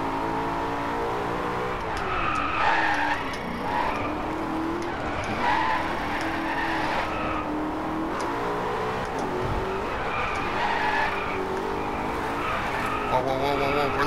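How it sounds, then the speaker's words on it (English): Race car engines rev and roar in a racing video game as the cars slide and skid through corners, with a steady, loud engine drone and tire squeal throughout while someone talks over it. "I love the sounds of the engines in this game."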